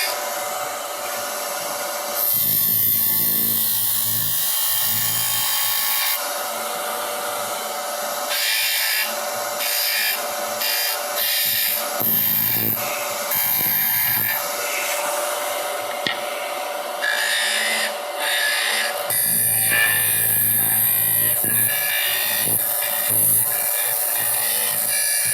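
A skew chisel works spinning wood on a lathe and chatters against it in a long run of rough scraping and rasping. The bursts come at varying intensity, stop and start several times, sit close up and have no talk over them.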